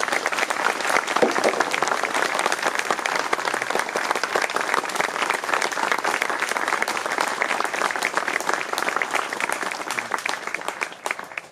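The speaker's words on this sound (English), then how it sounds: "let's give them a round of applause." Sustained applause from a large audience, dense steady clapping that continues for several seconds before fading slightly at the end.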